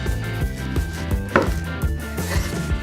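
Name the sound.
knife chopping pineapple into thin slices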